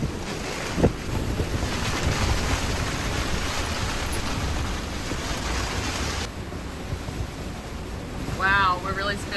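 Violent storm wind roaring over a sailboat at sea, with waves crashing and gusting noise loud and constant throughout, a brief splash near the start and a short voice near the end.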